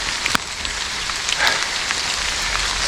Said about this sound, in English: It's pouring the rain all this time now.